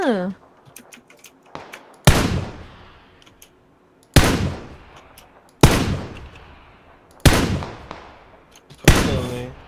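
Gunfire in the battle game PUBG, with about five sharp, loud single shots spaced roughly two seconds apart, each ringing off with a decaying echo, and players talking between shots.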